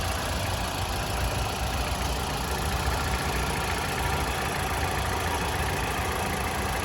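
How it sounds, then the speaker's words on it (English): A 2018 Mitsubishi ASX car engine idling, a steady even hum with a faint mechanical tick, close and constant throughout with no speech. "So I've got the car running at the moment."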